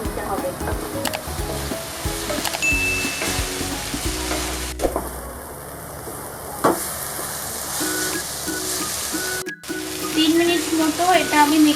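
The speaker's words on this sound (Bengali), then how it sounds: "এবার আমি চিংড়ি মাছগুলো দিয়ে দিচ্ছি। এই ভালো করে এটা মিশিয়ে নিতে হবে।" Prawns hit a hot pan with pineapple and sizzle loudly, with a spoon stirring and scraping through the mix in rhythmic strokes and clatters, a continuous frying hiss running underneath throughout.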